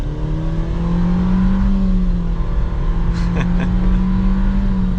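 A 2023 Nissan Versa SR's small engine drones and rises steadily in pitch as it accelerates, heard from inside the car with a constant hum throughout.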